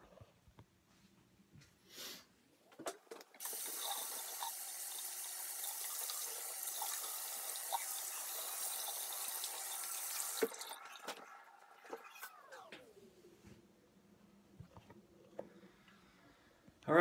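Tap water runs steadily into a bathroom sink for a face wash after a wet shave, a close hissing flow lasting about nine seconds, with splashing and handling noises before the tap opens and after it shuts off.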